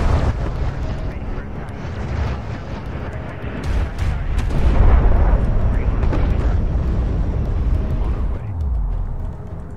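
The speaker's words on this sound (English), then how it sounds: "I love artillery in this game, by the way. It's so cool looking." Artillery fire rolls through a real-time strategy video game as a continuous deep rumble of blasts, swelling midway and easing near the end, with a voice talking over it.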